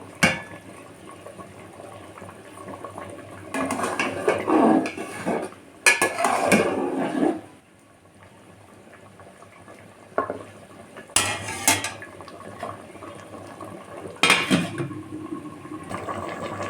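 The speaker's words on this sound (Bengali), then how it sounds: "মাছগুলোকে এবার বেগুনের মধ্যে দিয়ে দেবো ঢেকে আরও কিছুক্ষণ রান্না করে নেবো" Small fish cooking with eggplant in a covered pan: a low simmering hiss broken by bursts of stirring and metal utensil scraping and clattering against the pan, close and moderately loud.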